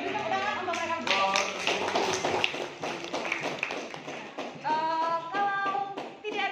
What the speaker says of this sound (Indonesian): Beri tepuk tangan untuk mereka berdua